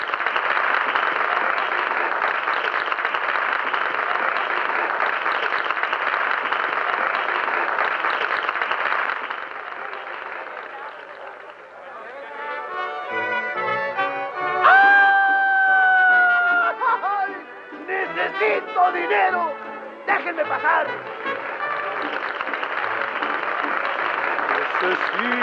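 An audience in a 1952 Mexican film gives a singer's entrance a long burst of loud, dense applause, which then fades as music begins.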